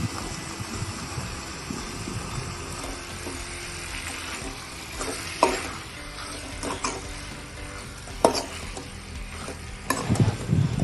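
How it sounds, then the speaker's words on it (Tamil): Chicken pieces and spice paste sautéed together in a pan for an Andhra-style chicken curry, with a steady low sizzle and scraping stir strokes, plus a few sharper clanks of the spoon against the pan near the end. "சிக்கன் ஆட் பண்ணதுக்கப்புறம் அந்த பேஸ்ட்டும் சிக்கனையும் நல்லா சேர்ந்து ஒரு 5 மினிட்ஸ் நல்லா வதக்கி விடுங்க"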